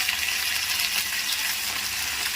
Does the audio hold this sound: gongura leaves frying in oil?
yes